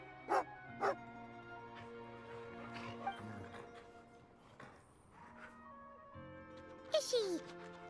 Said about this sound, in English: This must be one of Alocia's dogs!